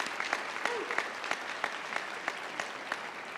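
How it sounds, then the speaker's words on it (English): Audience applause at the Fairmont Preparatory Academy Class of 2019 commencement ceremony, a dense, continuous patter of many hands with a few sharper claps standing out, moderately distant. "please give them a really wonderful round of applause"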